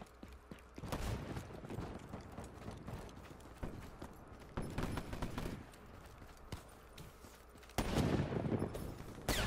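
Rapid shotgun blasts in Black Ops 3 Gun Game, loud bursts of gunfire coming in clusters with a heavy barrage near the end over constant game background noise.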